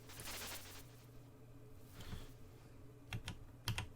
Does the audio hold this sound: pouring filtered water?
no